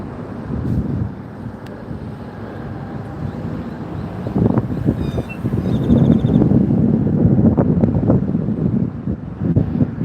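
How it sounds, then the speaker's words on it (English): Steady wind buffets the microphone in loud, rumbling gusts that swell and ease throughout, with no one speaking. "Yeah, it is still kind of windy."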